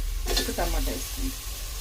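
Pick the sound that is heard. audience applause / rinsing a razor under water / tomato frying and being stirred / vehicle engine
tomato frying and being stirred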